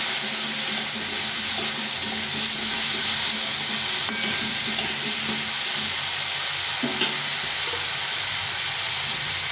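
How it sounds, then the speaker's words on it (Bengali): Boiled chickpeas fry with toasted spices in a pan for masala chana, giving a loud, continuous sizzle with faint scraping from stirring throughout and no voices. "দিয়ে এটাকে ভালো করে ভেজে নেব।"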